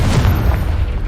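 A Confringo fire spell bursts in Hogwarts Legacy, a deep, loud booming blast rolling on for about a second with no voices over it.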